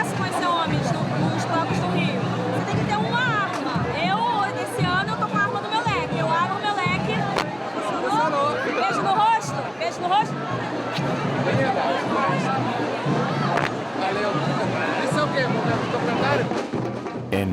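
Dense carnival crowd chatter at a street bloco in Rio, a steady wall of overlapping voices and babble with no breaks, loud and close throughout.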